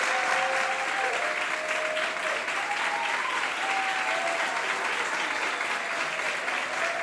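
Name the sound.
applause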